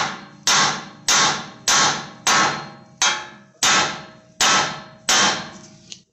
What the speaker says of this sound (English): If you just take a hammer and just whack the end of it.